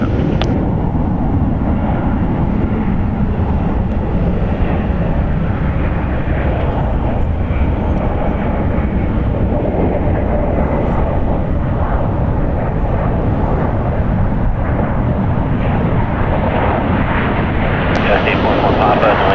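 A Delta Airlines Boeing 737-900ER arriving at San Francisco International Airport makes a continuous loud jet rumble, with a voice talking over it throughout.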